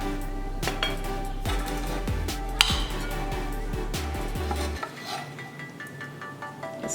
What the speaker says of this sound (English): Spread it all over the pizza dough.